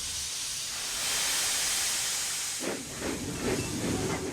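Steam hisses loudly from a Thomas & Friends engine, a sustained breathy rush that swells and fades, then gives way to a few soft rhythmic chuffs as the locomotive moves off.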